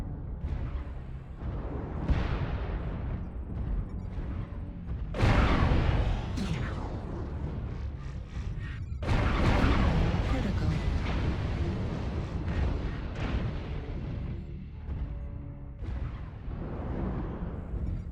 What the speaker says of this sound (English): Warning, incoming missile. Target destroyed.